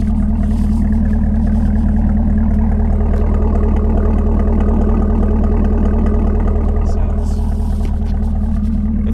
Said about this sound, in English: Engine has a very smooth, consistent idle, sounds really healthy